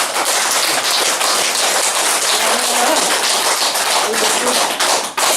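A group of elderly people at a senior center clap their hands vigorously together, producing dense, continuous rapid applause that stays loud throughout.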